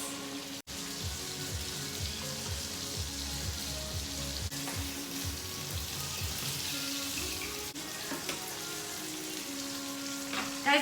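A ribeye steak sizzles loudly and continuously in a hot pan, with a dense crackling fry throughout and soft scraping and clinks as the fat is spooned over it.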